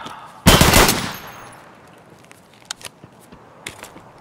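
Gunfire in the video game Escape From Tarkov: a loud, sharp burst of rapid shots with a ringing tail, then a few fainter scattered clicks and thuds as the action quiets.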